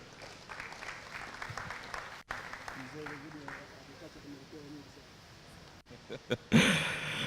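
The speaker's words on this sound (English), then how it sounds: "A big round of applause to the Danish ambassador" Moderate applause for the Danish ambassador at an agriculture and food security discussion, scattered claps under a voice that talks through the middle before a louder burst at the end.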